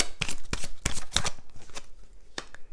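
Tarot cards handled and shuffled, with several quick papery riffles and flicks in bursts, close and fairly loud, followed by quieter card handling.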